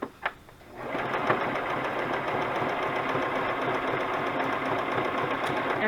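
A sewing machine runs a continuous zigzag stitch around the edge of a burlap and lace journal cover, a steady close mechanical whir after a couple of brief clicks at the start.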